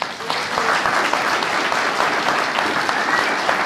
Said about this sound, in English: Okay, so round of applause for us all.